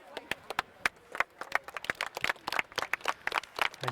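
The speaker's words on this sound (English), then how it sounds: "As you can hear, the clap of appreciation" A rugby crowd claps in appreciation for a player during a women's match, a loose, uneven patter of many hands at a moderate distance, with sharp individual claps standing out.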